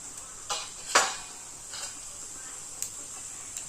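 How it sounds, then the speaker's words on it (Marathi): Mustard seeds and cumin sizzle in hot oil for a potato bhaji, with a steady faint hiss broken by a few sharp crackles and pops, one louder burst near the start. "टाकून घ्यायचे 1 चमचा मोहरी, 1 चमचा जिरं"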